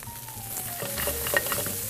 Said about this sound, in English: And we're gonna stir all of our veggies together.